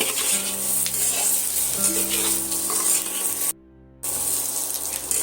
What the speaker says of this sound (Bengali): এইভাবে আলুটা পেঁয়াজের সঙ্গে ভালো করে ভাজা ভাজা করে নেব